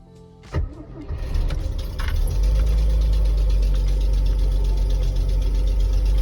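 A Volvo TGB C303 military vehicle with a B30 engine cranks in snowy weather and fires into a steady, loud idle that rumbles on continuously after a brief starter whir.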